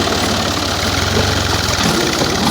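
An Al-Ghazi tractor engine, restarted after stalling while pulling an 11-tine cultivator, runs steadily at close range with a loud, even diesel throb and no talk.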